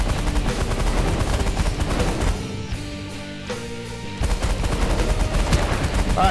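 Ship weapons in The Last Federation space strategy game fire in rapid, dense bursts of gunfire, loud and continuous, dipping into a quieter rumbling pause midway before the barrage resumes at full intensity.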